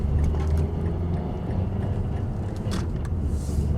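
A Mazda 3 with a transmission fault pulls out and drives off, a steady loud engine and road rumble filling the clip with a few faint ticks and clicks on top, no talking.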